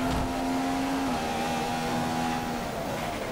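Full-throttle F1 car engine in the F1 2015 racing game, set on the Monaco street circuit in Monte Carlo, a steady loud tonal drone that drops pitch slightly partway through and holds continuously under constant broadband noise.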